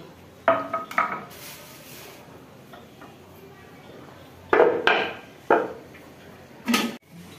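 A washed whole bottle gourd (lau) is chopped on a board in a home kitchen while a fish head cooks, giving a few sharp, separate knocks and clacks close by over a quiet background.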